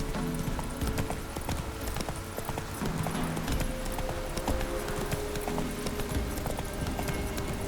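Horse hooves clip-clop at a steady, quick trot in The Witcher 3 video game, a continuous rhythmic patter of close knocks over low ambient game noise.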